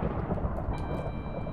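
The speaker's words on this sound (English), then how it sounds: "A little too much thunder, rather." Thunder in the Minecraft video game, a steady loud rumble with rain hiss running throughout, heard alone without talking.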